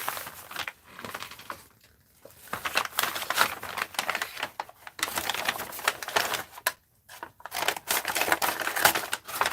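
Scissors cut through a sheet of wrinkled recycled craft paper with crisp, crinkly snips and rustling, in several bursts separated by brief pauses, close and fairly loud.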